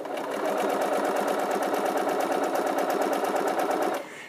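A sewing machine stitches folded fabric held by a HoneyBun tool while making fabric bowls, running loud and close with a rapid, even rhythmic clatter that cuts out just before the end.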